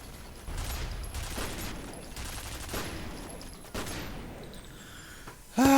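Turrets fire in the shooter game FEAR, rapid sustained bursts of automatic gunfire in repeated waves with mechanical clatter, loud and close, ending in a sudden harsh blast.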